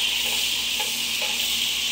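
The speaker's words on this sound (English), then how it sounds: "So now we have like this boiling butter bath" Butter boils and sizzles in a frying pan with thyme and meat drippings, a steady, dense crackling hiss throughout, close and alone with no talk.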